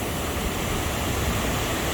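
A constant, loud rush of a mountain waterfall in the Picos de Europa, broad and hissing with a low roar, steady throughout with no voices.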